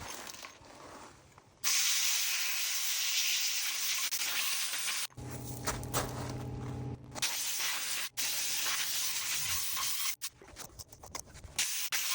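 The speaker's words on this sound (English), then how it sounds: "We're gonna put in our Harbor Freight gun now." A Harbor Freight sandblasting gun fires fine, dry blasting sand in loud, steady hissing bursts, starting and stopping several times with brief pauses between blasts and no talking.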